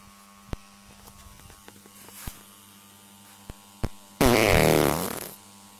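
A long, loud, sputtering fart erupts near the end, preceded by a few sharp clicks and faint pops over a steady electrical hum; no one speaks.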